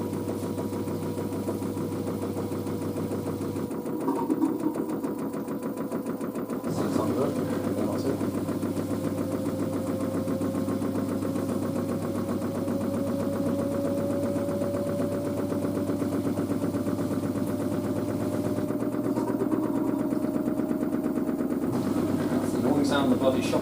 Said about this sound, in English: Sound the bloody shock absorbers make on this thing.